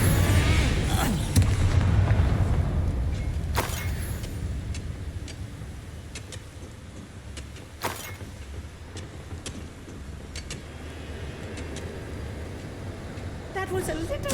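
Confringo fire spells explode in the Hogwarts Legacy video game: sharp blasts at scattered moments over a steady rumble of game sound, with voices talking underneath.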